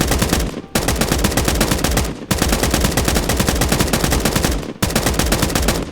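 Loud gunfire from firearms in the video game Escape from Duckov: dense, rapid automatic bursts fired close up, broken by a few brief pauses, with no talk.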